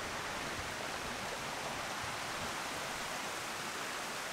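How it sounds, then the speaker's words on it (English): A flowing stream along a hiking trail on Kauai's North Shore, a steady broadband rushing and babbling of water, close and continuous with no voices. "We made it to a stream."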